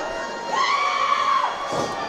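A wrestling crowd at Tank Brewing Company screams and cheers, a loud sustained roar with rising and falling shrieks from many people in an indoor venue.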